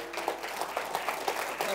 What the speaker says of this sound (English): Let's give the chair a round of applause.